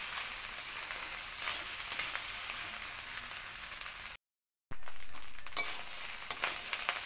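Fried rice stirred and tossed in a pan, a steady sizzling hiss with scraping stir strokes, briefly cut to silence midway, then resuming close and continuous.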